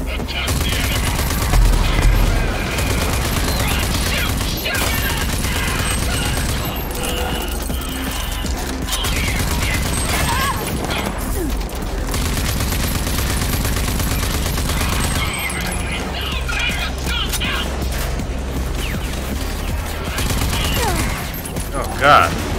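Gunfire in the shooter game Rage 2, heavy sustained volleys and bursts rolling on through the whole stretch, loud and dense, with a voice talking at times underneath.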